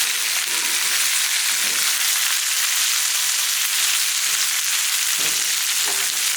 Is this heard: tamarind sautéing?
yes